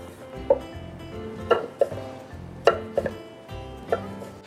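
A knife slices eggplant into julienne strips on a cutting board, a series of sharp, close taps arriving irregularly about once or twice per second.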